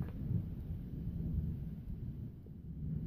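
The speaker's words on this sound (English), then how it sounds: "we got thunder in the background too" Distant thunder rolls continuously as a deep, low rumble outside an off-grid cabin, steady and muffled throughout with no voices.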